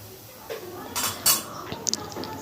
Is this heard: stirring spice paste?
yes